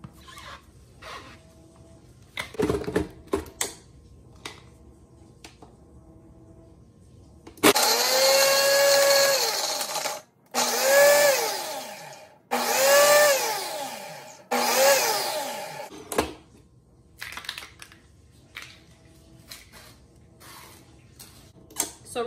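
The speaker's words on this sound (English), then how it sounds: "So right now I'm just putting it on the ice crush setting just to crush the ice, obviously." A kitchen blender on its ice-crush setting pulverizing ice with lemonade powder for a homemade Starbucks-style drink, running in several loud whirring bursts with rising and falling motor pitch, separated by short pauses and quieter clatter.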